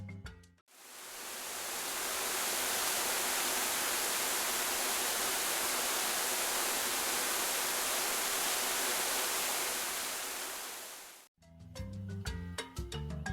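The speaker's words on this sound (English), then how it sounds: "A waterfall is a place where water flows over the edge of a steep, high cliff in hills or mountains and falls into a pool below." A steady roar of a waterfall pouring over a cliff into a pool below, continuous broadband rush that swells in and fades out, bracketed by short bits of music.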